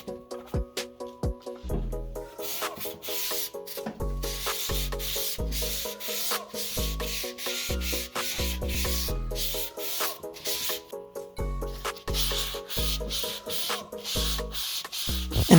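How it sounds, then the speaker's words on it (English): Sanding smooth wood surfaces on a furniture piece, a steady rubbing scrape repeated in rhythmic strokes, close and fairly loud, with no talking. "And I sand those surfaces smooth."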